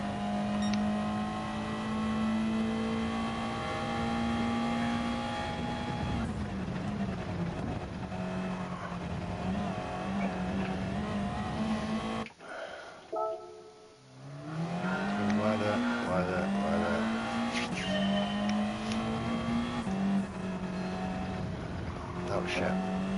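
Race car engine from a Nissan in Gran Turismo 7, a steady loud high whine with gear shifts and revving, dropping out briefly near the middle before surging back, with people talking over it.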